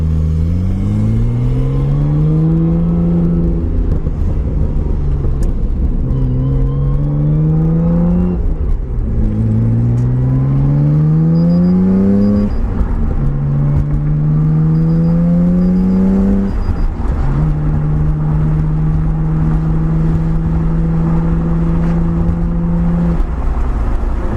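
A Nissan R32 Skyline GT-R engine revs through repeated rising gear pulls, each climb dropping back before the next, heard from inside the car as a steady loud drone with no voices.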